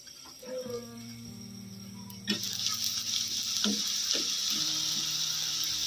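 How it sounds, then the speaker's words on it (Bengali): Onion fritters (peyaji) are deep-frying in hot oil in a village kitchen, with a steady loud sizzle after a sharp clatter, plus a few knocks and scrapes over it, and no talk. "পেঁয়াজিগুলো ভাজা হয়ে গেছে,"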